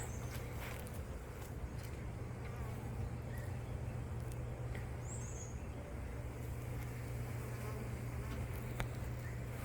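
Honeybees buzz steadily around hives beneath a shed floor, making a dense, continuous hum that sits close and fairly loud. Faint ticks and distant road noise show through now and then, and nobody speaks.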